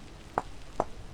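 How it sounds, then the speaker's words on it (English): Chiseling in the video game Vintage Story, two sharp, clear taps about half a second apart over a quiet background hiss, no talking. "Chisel that one and that one."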